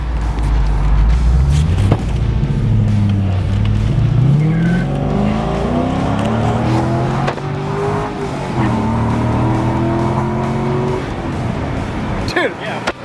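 A car does a burnout with its engine revving loud and close, rising and falling through the gear in long sweeping tones over a harsh tire squeal, while people shout and talk over it.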